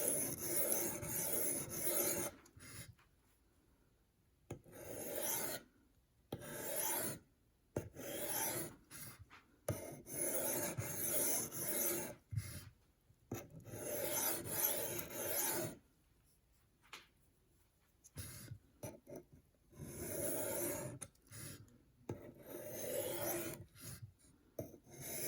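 A knife edge rasps lightly against a sharpening system's stone in short strokes of steady scraping, separated by brief silences, close and fairly quiet.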